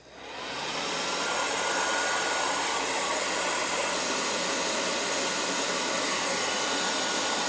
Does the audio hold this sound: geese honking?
no